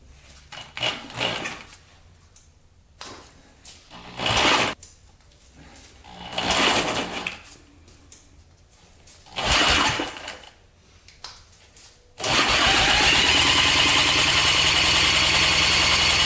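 Warrior 350 engine with decompression valve, spun over by a drill, cranking in short bursts before catching and settling into a loud steady running roar.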